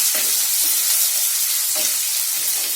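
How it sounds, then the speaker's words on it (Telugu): Onions frying in a pan for aloo curry make a loud, bright, continuous sizzle, with a few low scraping stirs breaking through now and then. "ఉల్లిపాయలు వేసిన తర్వాత ద్వారగా వేయించాలి"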